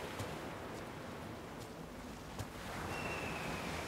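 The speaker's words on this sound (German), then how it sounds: "Windig ist es hier." Continuous wind ambience in Might and Magic X, a soft, airy rushing at low level, broken by a few faint clicks and a brief thin whistle near the end.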